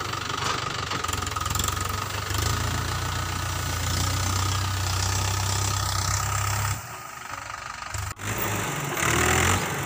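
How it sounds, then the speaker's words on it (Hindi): A tractor engine drives a threshing setup on a mustard crop in a farm field, running as a steady, loud mid-to-low drone with a clattering knock throughout, close by and with no speech. "ये देखिए गाइस पूरा ट्रैक्टर से मड़ाना करता है यहाँ पर"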